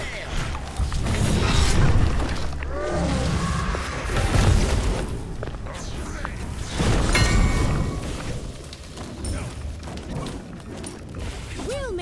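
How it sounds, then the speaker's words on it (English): A destruction sound for the enemy juggernaut in the Smite video game, with booming impacts and mechanical creaks and grinding rising and falling over a busy, cluttered game mix. "The enemy juggernaut has been destroyed."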